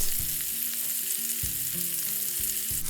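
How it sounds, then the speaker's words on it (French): Stuffed bitter melon grills in a pan with a steady close-up sizzle and occasional low knocks as pieces are turned and pressed, with no voices. "on va les retourner et griller l'autre face, c'est-à-dire la partie supérieure, en appuyant légèrement pour que le dôme de farce s'aplatisse un peu"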